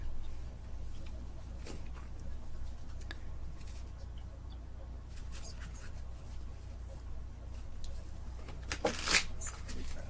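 Tarot cards shuffled for a reading, giving scattered soft riffles and flicks over a low steady hum, quiet and close, with a sharper burst of shuffling near the end.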